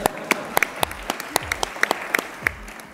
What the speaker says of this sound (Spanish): Un fuerte aplauso también para el frío.